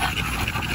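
Bully puppies pant quickly and steadily close by, a rapid breathy rhythm that runs through the whole moment with no talk.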